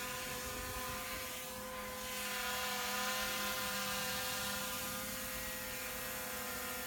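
A drone hovering near a group of lions, a steady high whining buzz of rotors that rises slightly in level and holds throughout, with no talking.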